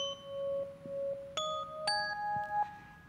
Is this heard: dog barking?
no